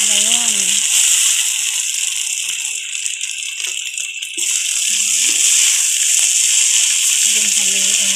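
Flaked fish dropped into a pan of chili sizzling for Filipino fish adobo, with loud steady frying hiss throughout and someone talking over it at moments.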